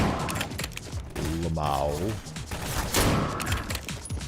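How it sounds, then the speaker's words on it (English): Grenades and gunfire burst in rapid, dense volleys in the video game Underyella, loud and continuous, while someone talks over the barrage. "this man is throwing grenades at me"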